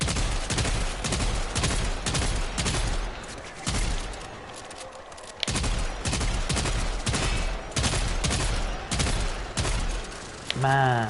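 Gunfire rattles in the Warframe video game, rapid loud repeated shots in long volleys with brief pauses, someone talking briefly over it, and an electronic chirping sound near the end.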